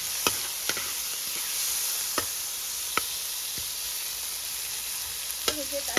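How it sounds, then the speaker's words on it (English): Herbal seasoning and tomatoes fry in a pot with a steady, close sizzling hiss, punctuated by several sharp knocks and clinks of a spoon against the pot. "As you can see, the seasoning is frying."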